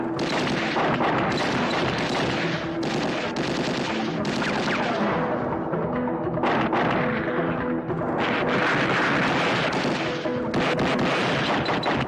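Continuous gunfire fills a film scene, dense and loud with overlapping bursts and crashes that barely let up, like a sustained shootout.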